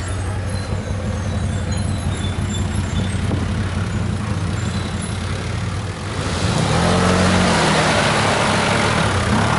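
An off-road vehicle engine drones loudly and steadily while driving uphill off road, then swells to a harder, louder roar partway through, with no talking.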